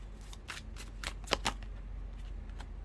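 Tarot cards are shuffled by hand during a reading, giving soft, close riffling bursts in quick uneven clusters against a quiet background with no talking.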